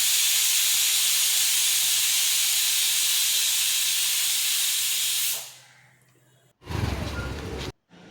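Loud, continuous hiss of steam escaping a pressure cooker while corn cooks, holding steady for several seconds before cutting off, followed by a short burst of clatter.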